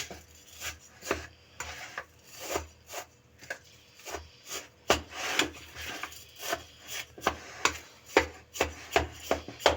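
Semolina kunafa dough is worked by hand with milk in a bowl, producing a steady run of close, gritty rubbing and pressing strokes in an uneven rhythm.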